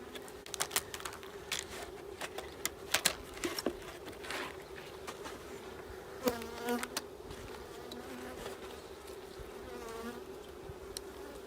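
Honeybees buzzing close around a beekeeper: a steady droning hum with individual bees zipping past the microphone, rising and falling as they dive in, continuing throughout with no talk.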